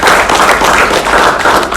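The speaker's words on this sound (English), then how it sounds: "Let us give a round of applause to the panel." An audience applauds a panel at an aviation runway safety collaboration event, with steady, dense clapping that fills the room loudly and evenly throughout.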